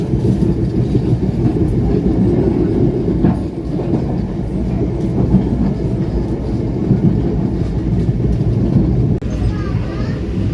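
The Pangrango train runs near Karangtengah station on the line from Sukabumi, Indonesia, with a continuous loud rumble and rhythmic clickety-clack of wheels heard from on board.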